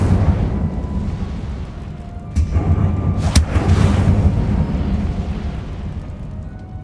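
An Incendio fire spell is cast in Hogwarts Legacy: a steady low rumbling roar, broken by a sharp crackling burst of flame about midway, then a continued fiery rush that settles back down.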